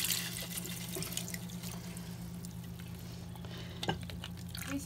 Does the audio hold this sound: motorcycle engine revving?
no